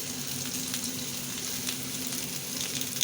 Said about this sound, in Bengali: তেলের মধ্যে দিয়ে ভালো করে এইভাবে ভেজে নেব একটুও কাঁচা থাকবে না